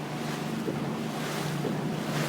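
A motorboat on the Tisza river accelerates, its steady engine drone mixed with rushing water, wave slap and wind buffeting the microphone, loud and continuous throughout.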